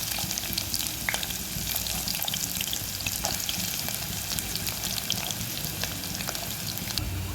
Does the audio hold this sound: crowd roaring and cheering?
no